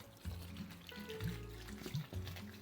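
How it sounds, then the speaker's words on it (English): Water poured into seed-starting soil for winter sowing, a soft splashing trickle with a few gurgling bursts, close and moderately quiet, without talk. "So we're going to add water."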